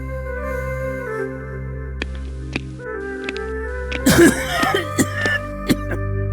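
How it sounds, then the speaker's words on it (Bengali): A king, ill with a heavy cough, coughs several times in a royal court scene, the sounds rough and close amid a music and ambience bed. "আপনার যা কাশি হয়েছে দেখছি"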